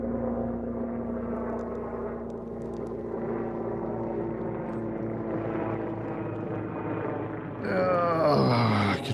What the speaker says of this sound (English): Where's the chopper?